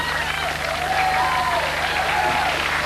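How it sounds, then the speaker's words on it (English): A studio audience cheers and applauds at a John Lydon talk-show appearance, a sustained wash of clapping and crowd noise at full volume, with a faint tone running underneath. "I tell you what, you're all cheering."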